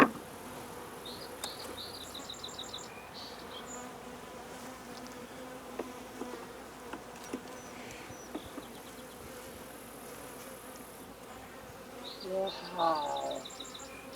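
Honey bees hum in a continuous low, close drone inside a hive, with scattered faint chirps and light handling clicks, and a brief louder rustle toward the end.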